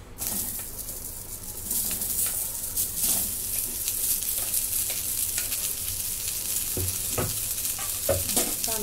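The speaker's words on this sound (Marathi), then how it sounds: "कांदा असा लालसर भाजून झालेला आहे." Sliced onion frying in a pan until reddish-brown for a Savji chicken masala, a steady close hiss of oil with occasional scraping and clinking as it is stirred throughout.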